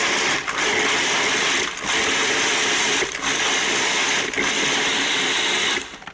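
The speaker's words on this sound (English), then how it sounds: "I'm just going to chop that up for about 45 seconds" Cuisinart food processor chopping a brown sugar and cinnamon topping, a loud steady motor whir broken by four brief dips as the blade pulses, then cutting off at the end.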